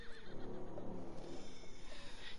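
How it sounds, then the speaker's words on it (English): A horse neighs loudly in Resident Evil Village, a whinnying, shaking call that rises and wavers over a dense backdrop of game sound and music, heard up close for a couple of seconds. "The horse grew angry and summoned the other monsters."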